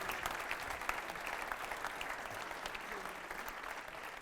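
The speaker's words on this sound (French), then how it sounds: "On peut les applaudir toutes et tous," Audience applause at a round-table discussion in Lunel, a steady, dense clapping that holds at an even level throughout, fairly quiet overall with no talk over it.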